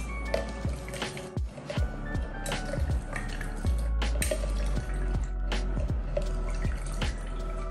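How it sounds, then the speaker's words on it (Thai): Oranges being washed and soaked in salt water, heard up close as a steady run of wet drips, splashes and squishy handling noises with no talking. "ส้มก็ควรล้างให้สะอาดก่อนนะครับแช่น้ำเล็กน้อยแช่น้ำเกลือ"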